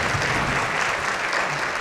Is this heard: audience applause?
yes